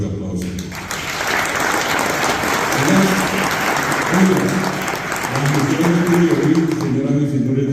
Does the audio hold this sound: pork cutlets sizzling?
no